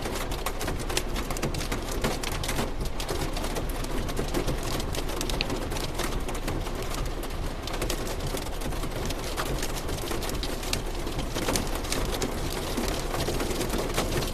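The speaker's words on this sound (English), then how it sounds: "Might be some small hail in here." Small hail and rain pour down during a Texas storm, a constant dense patter of drops with scattered sharper ticks of impacts, steady and close throughout about fourteen seconds, no voices.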